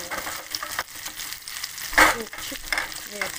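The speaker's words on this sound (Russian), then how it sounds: "Это уже пожаренное, это в муке. А это жарится" Floured red mullet fries in a pan in a home kitchen, sizzling and crackling steadily up close, with a brief louder spatter midway and no voices.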